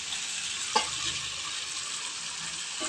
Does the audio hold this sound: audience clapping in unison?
no